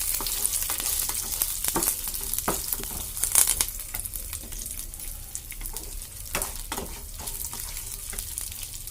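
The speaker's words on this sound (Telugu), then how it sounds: "ఇప్పుడు వీటిని బాగా ఫ్రై చేసుకోవాలి" Carrot and beetroot fry in a pan with a loud, constant sizzle, punctuated by repeated stirring scrapes and clacks, with running water heard briefly in the background.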